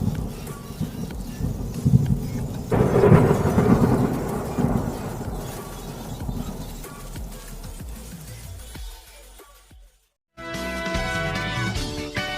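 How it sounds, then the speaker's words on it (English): A video game thunderstorm rumbles with heavy, rolling thunder and a wash of rain. The noise swells early, fades gradually, then drops to brief silence before a different sound cuts in. "I'm so glad we're out of that storm!"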